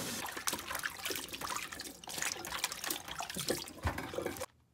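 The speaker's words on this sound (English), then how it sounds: "I am going to rinse the cabbage." About a pound of raw cabbage is rinsed under a running kitchen tap, water splashing and pattering unevenly with small surges before the flow stops abruptly near the end.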